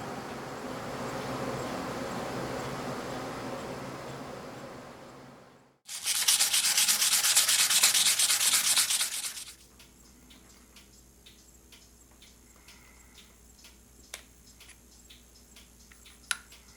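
Sandpaper rubbing across an acrylic pen blank in a steady, loud, close scraping burst lasting a few seconds, after a stretch of duller rubbing and before a quiet pause with a couple of small clicks.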